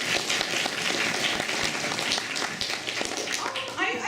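Audience applause at a comic convention panel: dense, close clapping with sharp taps throughout, mixed with voices talking over it.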